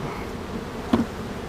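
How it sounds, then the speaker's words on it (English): Yellow jackets buzz close by around an opened honeybee hive, a steady insect drone with one brief louder buzz passing near. "I've noticed a lot of yellow jackets taking advantage of the hive being opened today."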